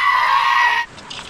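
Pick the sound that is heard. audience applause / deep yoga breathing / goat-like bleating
goat-like bleating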